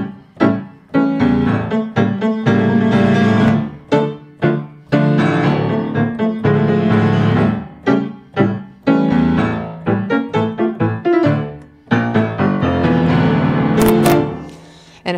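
Argentinian tango music with a loud, full instrumental sound, played with strong accented rhythmic chords and short punctuating pauses throughout.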